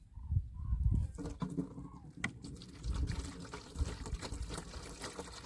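Liquid is poured into a container on a farm, apparently while a 2,4-D herbicide mix is being prepared, making faint low gurgling splashes outdoors with birds calling in the background.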